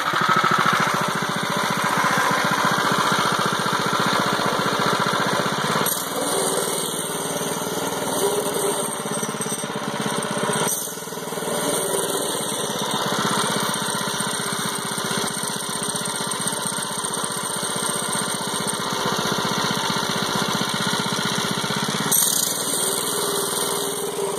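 A Predator 212 engine fitted to a tractor, warm and running at a steady, loud, high-pitched drone that stays constant with slight shifts in tone throughout, no voices.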